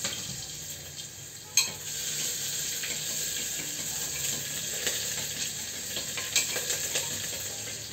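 Onion frying in a pan while cooking dal, a faint steady sizzle with light clinks and one sharp knock near the start, close and without voices.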